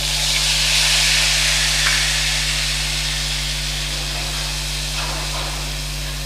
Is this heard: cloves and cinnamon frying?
yes